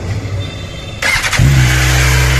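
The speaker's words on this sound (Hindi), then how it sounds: "और भाई स्टार्ट करो गाड़ी अपना।" A new superbike with its stock exhaust cranks and fires up, settling into a loud, steady idle close by after a brief starter whirr.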